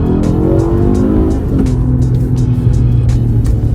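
An Acura RLX with a dual-clutch gearbox accelerates hard in sport mode, its engine note climbing steadily and loud throughout, with no talking over it.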